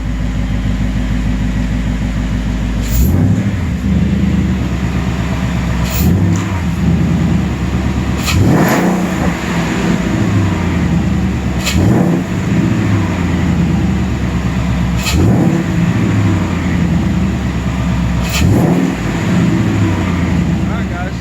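A 2018 Ford Mustang GT V8 with a newly installed cold air intake idles steadily, then is revved in a series of quick blips about every three seconds, each rising briefly and falling back to a low rumble.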